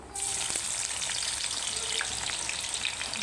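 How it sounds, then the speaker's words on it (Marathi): Half an onion fries in hot oil in a kadai for soya bean biryani, giving a steady, close, continuous sizzle with no talking. "आता मी ता कांदा तळून घेणार आहे"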